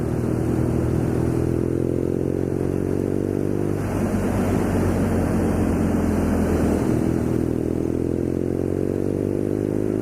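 A BMW R nineT Scrambler motorcycle rides along a bumpy road, its engine droning steadily and loud throughout with a rough, clattering texture from the uneven surface, no voices present.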